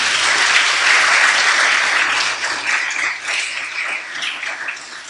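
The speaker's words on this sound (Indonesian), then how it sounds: "Tepuk tangan untuk Fahmi" Applause for Fahmi from a mixed audience of women and men at an Indonesian religious lecture, a thick wash of clapping that starts strong and slowly thins and softens toward the end.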